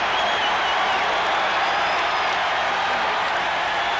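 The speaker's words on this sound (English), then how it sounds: "Crowd wants to see Lee Brandt get out of this jam as they come to life with a count 0-2." Crowd at a 1985 World Series baseball game between the Cardinals and Royals roars with steady cheering and applause, a dense continuous wash of noise with no clear breaks.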